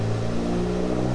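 Tuned Audi S3 fitted with a downpipe and aftermarket exhaust, its engine humming in a steady, close, loud drone with a sustained low tone and no talking.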